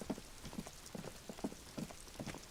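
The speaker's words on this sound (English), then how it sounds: "Alright, it's raining." Rain falling in a video game, a steady quiet patter with soft irregular drips and taps throughout, no talk.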